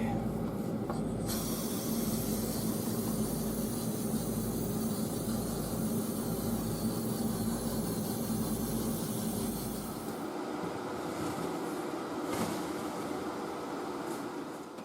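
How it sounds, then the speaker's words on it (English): Clear coat sprayed onto flat hotrod metal art, a steady, loud hissing spray that runs continuously for most of the clip and then softens, with no talking. "Do a little clear coat real quick."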